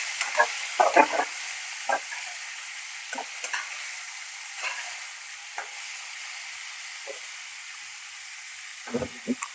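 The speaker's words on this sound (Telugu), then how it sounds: "ఇప్పుడు మెయిన్ దోసకాయ ముక్కలు వేసేసేయాలి." Cucumber pieces frying in a pan while being stirred, a soft continuous sizzle punctuated by scattered scrapes and taps of the spoon.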